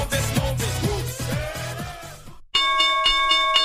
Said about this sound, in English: Got to have the chimes in there right now.